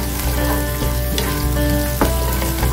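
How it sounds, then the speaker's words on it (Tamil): A small piece of ginger and a cut green chili fry in hot oil for coconut rice, making a loud, close, continuous sizzle with scattered crackles and pops and no voices. "லைட்டாக பொரிஞ்ச உடனே இஞ்சி ஒரு சின்ன துண்டு, பச்சை மிளகாய் ஒரே பச்சை மிளகாய் கட் பண்ணி போட்டுக்கோங்க"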